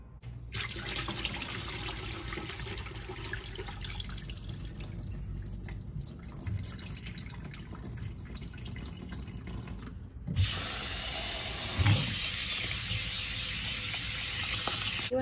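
A kitchen tap runs steadily into a sink while rice is rinsed in a bowl, a loud continuous splashing rush that briefly shifts and then resumes a little brighter.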